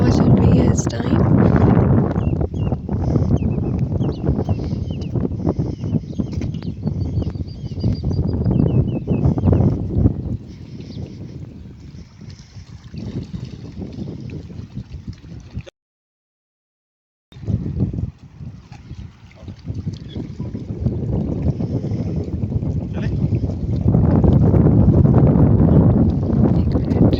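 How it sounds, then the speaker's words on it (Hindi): Cold wind gusting by the water on a roadside stop between Jazan and Jeddah, loud buffeting rumble against the microphone that drops briefly before returning strongly. "इतनी ठंडी हवा चल रही है इस टाइम।"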